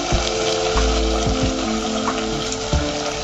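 Sauces poured into a hot pan of vegetable noodles, with a loud, steady sizzle and bubbling that runs throughout, plus a few clanks of utensils against the pan.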